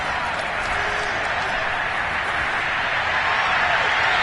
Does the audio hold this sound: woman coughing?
no